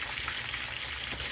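Onion goes into a hot frying pan while red snapper escovitch is prepared, giving a short burst of dense, even sizzling crackle at close range, with no talking.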